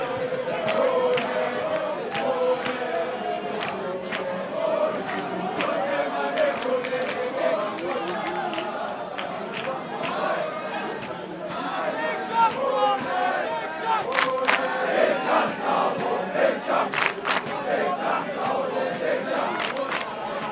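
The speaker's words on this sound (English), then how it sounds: "There we see some Queens boys in the crowd as well, voicing their opinion." A rugby crowd of schoolboys at a Border Schools Day match shouts and chants in a loud, continuous roar, with individual yells rising above the dense crowd noise throughout.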